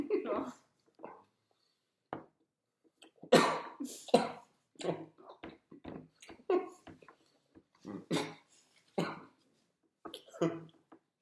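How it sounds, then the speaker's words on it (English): Several bursts of coughing and throat clearing, close to the microphone, scattered among short stretches of talking. "I always get the coughs when it happens."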